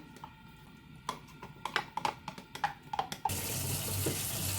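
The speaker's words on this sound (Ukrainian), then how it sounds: "Ставлю у раковину з холодною водою, щоб швидше остило." Kitchen sounds of clinking and small knocks give way to a tap gushing steady running water into a sink filled with cold water to cool a pot of fruit purée for cheesecake, fairly close.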